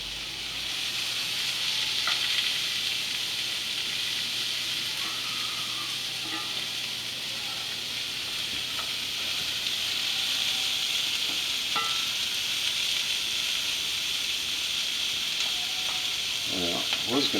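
Food frying in a hot cast iron pan with olive oil, giving a loud, continuous close sizzle with occasional stirring scrapes and no talk.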